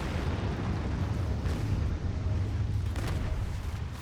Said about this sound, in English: Launching. Nuclear missile.